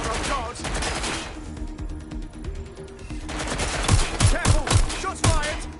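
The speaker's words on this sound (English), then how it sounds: "Careful! Shots fired!" Bursts of automatic gunfire and single shots ring out in the Watch Dogs Legion video game, loud and repeated, thinning out in the middle and then returning as sharp, rapid cracks.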